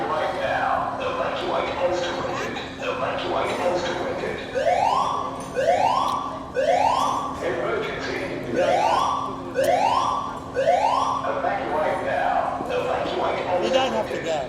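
A building fire alarm sounds in a repeating pattern of rising, swooping siren tones in regular bursts, loud and close, with voices talking over it.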